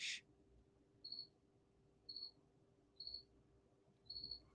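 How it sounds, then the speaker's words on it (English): A cricket chirps just outside a basement: four short, evenly spaced chirps about a second apart, faint against quiet room hiss, after a brief sharp noise at the start. "There's a cricket that are going on right outside my basement."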